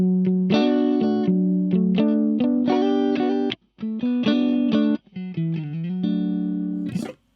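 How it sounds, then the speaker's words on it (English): Dry electric guitar on a Warmoth parts build, played unprocessed: a run of picked chords and notes in bursts with two short gaps, ending in a sharp scrape. "Dry signal with the Warmoth parts guitar."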